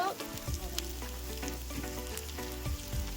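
Ginger-garlic paste frying quietly in hot oil in a pan for chicken rezala, a soft steady sizzle with occasional light scrapes and clinks of stirring.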